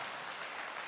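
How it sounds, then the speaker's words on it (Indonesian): Congregation applauding at a church sermon, a dense, steady wash of clapping filling the whole short moment without a break. "Berikan tepuk tangan yang meriah buat Tuhan."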